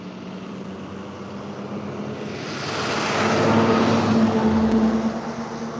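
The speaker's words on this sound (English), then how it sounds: "Oh, school bus turned around." A school bus turning around on a road beside a pond, its engine a broad rumbling whoosh that swells over several seconds and then eases, moderately loud with no talk.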